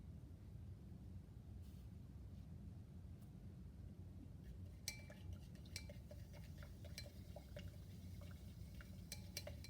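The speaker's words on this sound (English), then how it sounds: "Well, it started bubbling again." A liquid bubbles and fizzes during a cold, endothermic chemical reaction that gives off a colorless, odorless gas, with soft steady fizzing under light glassy clinks and taps that grow busier in the second half.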